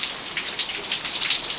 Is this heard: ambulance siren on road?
no